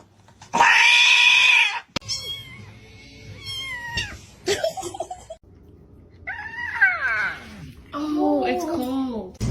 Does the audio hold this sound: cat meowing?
yes